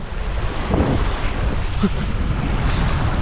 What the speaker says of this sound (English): if it wasn't as windy as it is right now